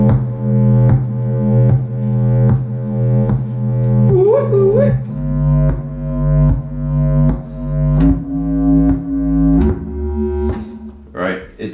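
A low-end synth sound called the hollow pumper throbs in a steady rhythmic pulse with sustained bass tones and pumping swells, plus brief higher wavering notes and clicks, loud and close.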